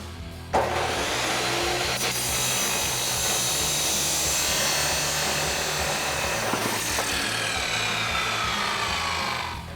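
A saw cuts through a clamped exhaust pipe for a RAM 1500 MBRP dual exhaust system, starting abruptly and grinding on as one loud, continuous, rasping whine for about nine seconds.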